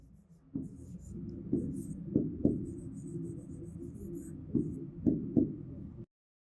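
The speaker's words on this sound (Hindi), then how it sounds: "तो चलिए इसको भी फटाफट लिखते जाते हैं" Quick handwriting while solving a Class 7 integers maths problem: a steady, close scratching of pen strokes with occasional sharper taps, running continuously for about six seconds before stopping abruptly. A faint voice may sit underneath.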